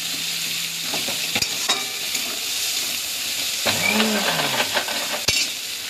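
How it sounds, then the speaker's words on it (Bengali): Onions frying in hot mustard oil in a pan, with a steady close sizzle broken by stirring clatter and a few sharp utensil knocks. "পেঁয়াজটা ভাজতে দিলাম।"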